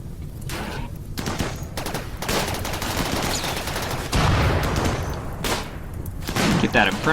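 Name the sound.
gunfire in RimWorld video game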